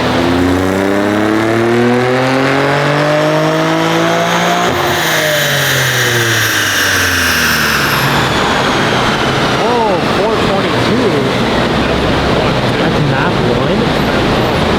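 A tuned, bolt-on 2023 Nissan Z making over 500 hp pulls hard in fourth gear, its loud exhaust note rising steadily in pitch through a long, close, continuous acceleration with a gear change partway.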